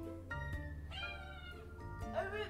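Domestic cat meows several times in quick succession, short rising and falling calls, fairly close but quiet over a low background hum.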